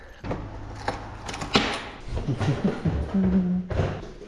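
Keys jangle and rattle against the lock of a lodging's door while it is being unlocked, with several metallic clinks, taps and soft thuds over a few seconds, heard close and fairly quiet.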